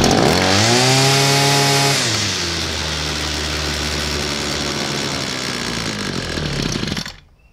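A Homelite chainsaw with a suspected fuel-loss carburetor fault roars at high revs for about two seconds, then settles into a rough, steady near idle before cutting out abruptly near the end, with no talk.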